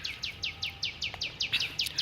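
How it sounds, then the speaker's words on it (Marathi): Birds in dense trees near a forest village, one bird repeating a quick regular series of high chirps with another call joining near the end, fairly faint over quiet background. "झाडींच्या ठिकाणी अनेक पक्षी आहेत, प्रमाणाच्या बाहेर पक्षी आहेत बघा"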